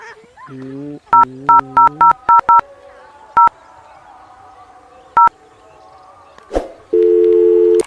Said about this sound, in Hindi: अपने जान के हम फोन लगाई।